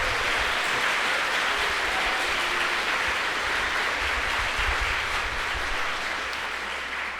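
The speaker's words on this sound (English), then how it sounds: "Please give them a huge round of applause" A crowd at a political talk and Q&A in Sheffield gives a sustained round of applause, dense and even clapping that fills the room without a break and fades slightly at the close.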